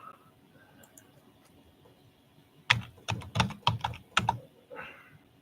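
Keystrokes on a computer keyboard come in a quick, uneven burst of clicks after a few quiet seconds, close and fairly crisp, with no talking.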